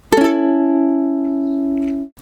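A major chord on ukulele, one crisp strum that rings and sustains for nearly two seconds before being damped, heard close up without speech.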